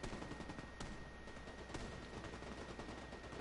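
Rapid gunfire from The Division 2 video game, a dense, continuous rattle of shots with a couple of sharper cracks standing out, loud and unbroken throughout.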